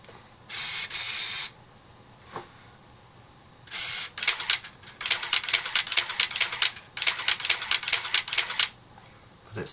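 Nikon F90 film SLR firing its motor drive: a few short bursts of shutter and film-advance whirring, then longer runs of rapid mechanical clicks in continuous shooting, close and fairly loud, with no voices.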